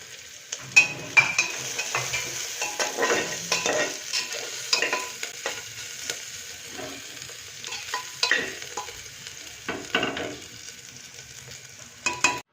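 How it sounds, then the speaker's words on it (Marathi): Chopped onion and minced garlic fry in a pan for a moong dal and rice khichdi, a steady close sizzle with frequent scraping stirs and light utensil clinks, no voices. "कांदा छान सोनेरी कलर येईपर्यंत भाजून घ्यायचा आपल्याला। लगेच लसूण जो आपण बारीक केलेला आहे तो पण यामध्ये टाकूया।"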